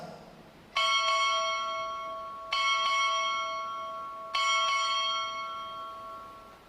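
A ship's bell is struck six times in spaced pairs during a naval ROTC graduation ceremony. Each clear metallic strike rings out and slowly decays, with no talk over it.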